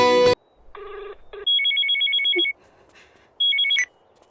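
A telephone rings in a movie scene: after a loud opening burst, a tonal buzz gives way to two bursts of a warbling electronic ringtone separated by a brief quiet gap, with no talk.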